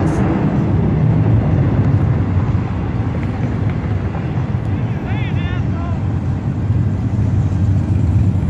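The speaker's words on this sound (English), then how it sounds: "Hey Mark, hope you enjoy some trains from home." A steady, heavy rumble of a passing intermodal freight train, loud and continuous, with wind buffeting the microphone and a faint high squeal partway through.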